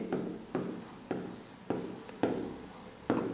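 A pen writing a sentence by hand on paper, with rhythmic scratchy strokes repeating about every half second, close and quiet, with no speech over them.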